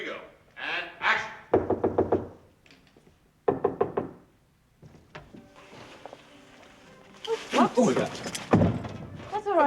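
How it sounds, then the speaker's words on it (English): Knuckles rap on a door in short bursts of several quick knocks, close and sharp, with voices speaking between and after them. "I just didn't hear you knock"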